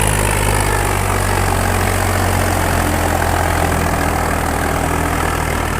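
A heavy tractor engine idles steadily and loudly nearby, a constant low rumble with no break or change in pace.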